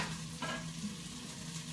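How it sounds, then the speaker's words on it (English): Sweet potatoes cook in a pan with a soft, steady sizzle and a brief stirring scrape, close and fairly quiet, with no voices. "the whole point is here to cook the sweet potatoes down first"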